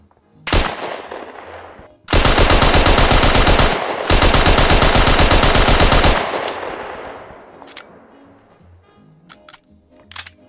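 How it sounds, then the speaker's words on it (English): Thompson submachine gun in the video game Hell Let Loose firing a short burst, then two long sustained automatic bursts, loud and close, with echoing tail and faint clicks afterward. "He has a Thompson."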